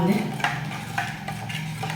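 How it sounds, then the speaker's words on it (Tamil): A spoon scrapes and clinks against a metal pot in a few irregular strokes, stirring a lump-free vadam batter close up. "கட்டி இல்லாமல் கலக்கி வச்சுடுவோம்."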